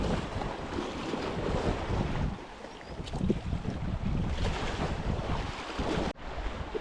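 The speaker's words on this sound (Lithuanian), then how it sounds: "Tik tas vėjas labai didelis į nosį." Strong wind on the rocky Lofoten coast blows in a steady, dense roar with heavy buffeting against the microphone, mixed with what may be surf, and no voices.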